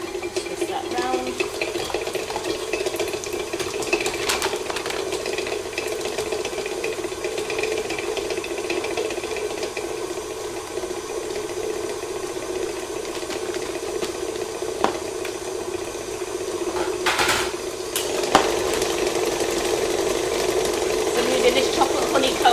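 A plugged-in electric whisk runs with a steady mechanical whir through the whole stretch, close and moderately loud, with a few knocks along the way and brief talk over it.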